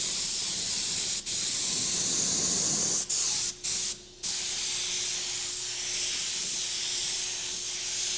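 Light coat of pearl and candy paint sprayed onto a rat rod, heard as a close, loud hiss that runs in sustained bursts with a few short breaks between passes.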